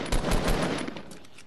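Rapid gunfire bursts in the Fortnite video game, a few loud shots up front fading into quieter scattered firing, with no talk over it.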